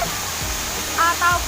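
The Dlundung waterfall rushes as a constant broadband roar, with a few short voice fragments over the top.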